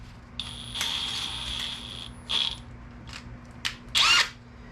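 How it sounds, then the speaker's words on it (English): A drill bit packed with grease bores into a Ford flathead engine, giving a high steady whine for about two seconds, then several short sharp bursts of drilling close by with no talk. "I'm going to pack my drill bit with grease to help keep any"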